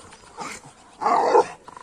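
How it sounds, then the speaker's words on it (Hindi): A Rottweiler or pitbull gives a deep, growly bark, with one short burst followed by a louder, sustained rough bark nearby, then faint scuffling. "जोजो मिलने की वजह से जो भौंक रहा"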